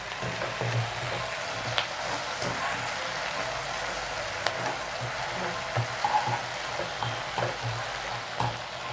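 Cauliflower Manchurian (gobi) fries in a pan with vinegar and soy sauce, giving off a continuous, even sizzle up close with no talking.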